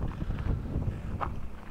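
Strong wind by the water in Copenhagen buffets the microphone, a continuous low rumbling gust with uneven swells and no speech.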